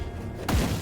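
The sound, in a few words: frost bolt hitting the player in the video game Grim Dawn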